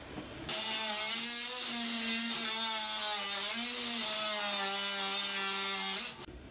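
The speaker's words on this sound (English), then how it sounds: "I've mounted a metal cutting blade into this multi-tool, and we'll see if we can cut through it that way" Multi-tool fitted with a metal cutting blade sawing through a thick battery starter cable, a loud steady buzzing whine that starts abruptly, holds for about six seconds with slight pitch wavers, then stops.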